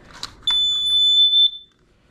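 A smoke alarm being tested at home gives one long, piercing beep lasting about a second, loud and close, after a couple of faint handling clicks.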